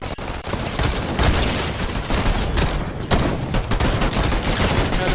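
Rapid video game pistol gunfire, a loud, dense stream of shots with booming impacts that continues almost unbroken for several seconds, with one brief gap near the middle.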